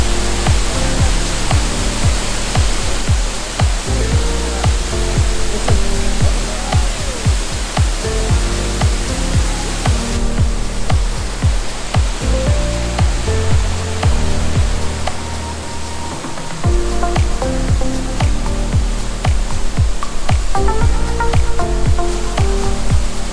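A waterfall near Ubud, Bali, roars loud and close as a steady, unbroken wash of rushing water that fills the whole soundscape.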